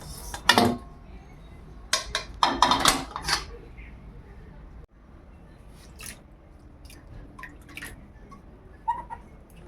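A metal kadai being washed with water in a home kitchen, with close clatters, scrapes and splashes clustered in bursts, then quieter dripping and occasional clinks.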